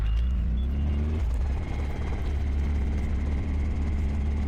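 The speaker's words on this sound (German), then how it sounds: "Der Motor wieder gestartet." A Rotorway Talon helicopter's engine idles after a restart at a fuel station, giving a steady, loud low rumble with a faint higher whine layered over it, continuous and unbroken throughout.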